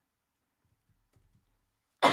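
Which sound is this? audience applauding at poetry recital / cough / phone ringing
cough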